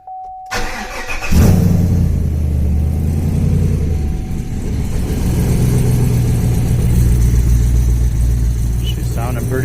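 A Chevrolet Colorado truck with a swapped V8 and partial exhaust, muffler removed, cranks and fires up, then settles into a deep, loud rumble with revs rising and falling; voices talk briefly over it.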